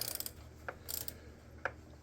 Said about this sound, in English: Ratchet on there.